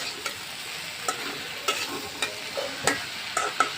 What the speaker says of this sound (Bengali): এইভাবে ভেন্ডিটা ভাজা ভাজা করে নামিয়ে নেবেন